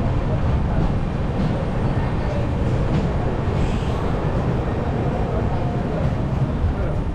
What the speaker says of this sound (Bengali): সাঁতরাগাছি থেকে ছেড়ে দিল আমাদের ট্রেন।